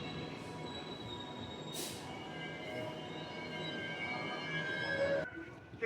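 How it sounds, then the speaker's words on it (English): Train pulling into the underground station at Perth, a C-Series service, with a rumbling roll and sustained high metallic wheel squeals rising and shifting before coming to a stop. "Another train full of people is coming into Perth."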